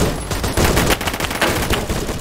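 Gunfire in the Roblox shooter Phantom Forces, a loud, dense run of rapid shots in quick bursts with barely a pause, heard alone.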